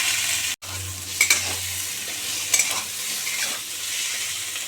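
Green chillies and tomato tossed into a hot pan of fried onion, giving a steady sizzle with a couple of sharp stirring scrapes, close and fairly loud with no talking.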